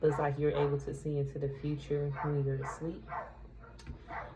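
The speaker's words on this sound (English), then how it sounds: "I don't know if y'all can hear my dog barking." A dog barks in the backyard, faint and distant, a few short barks under a woman's close, continuous talk.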